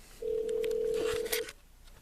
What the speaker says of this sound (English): That's actually a phone ringing.